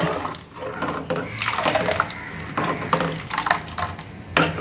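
Water splashes and pours in uneven bursts into a cooking pot of drumstick-leaf curry, loud and close, with brief pauses between pours.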